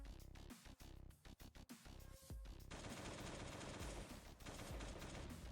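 AK rifle gunfire in a video game: bursts of rapid shots and single cracks early on, then a sustained loud stretch of automatic fire, with no talk.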